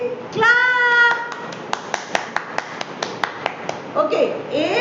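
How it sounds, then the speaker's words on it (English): Children in an English class clap their hands in a steady run of sharp, evenly spaced claps, with sung or chanted voices before and after. "Clap."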